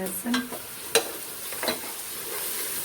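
Onions and garlic fry in a pan with a soft, steady sizzle, broken by a few sharper clinks and scrapes as they are stirred, close and fairly quiet.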